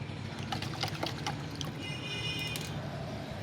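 Fungicide being stirred into water for watering a bougainvillea plant, heard as close, soft liquid swishing and trickling with small splashy clicks over a steady low hum, no talking.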